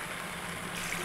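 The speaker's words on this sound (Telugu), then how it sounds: "ఇలా కాసిన వాటర్ని ఇందులో వేసుకోండి కర్రీలో." Boiled hot water pours into a pot of chicken curry, a short steady splashing trickle close by with no talk.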